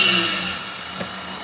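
A car engine with its exhaust cut off runs loud and raw up close, a steady broadband roar with a low rumble that eases slightly after the first half second, with no voices.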